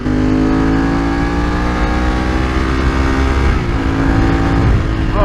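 A 29-year-old Ducati 916 motorcycle engine pulling hard under acceleration, a loud continuous throbbing roar with rising pitch and a brief shift partway through, wind noise around it and no voices.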